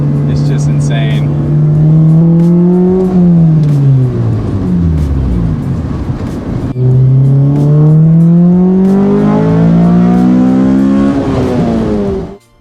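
An 8th-generation Honda Civic Si engine with a K-Tuned cold air intake and Invidia N1 catback exhaust revs hard and loud, climbing and falling in pitch twice with a throaty intake roar, heard up close.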